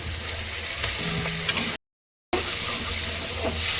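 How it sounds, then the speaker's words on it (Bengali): Chopped onions sizzle and crackle in hot oil in a pan, a steady broadband hiss with faint stirring scrapes, briefly cut by a short gap of silence before the frying resumes. "এবার পেঁয়াজ কাটা দিয়ে দেবো"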